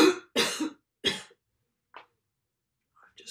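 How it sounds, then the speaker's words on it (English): A person ill with a virus coughs three times in quick, harsh bursts, close and fairly loud, followed by near silence with only a couple of faint, brief sounds. "I've got this cough."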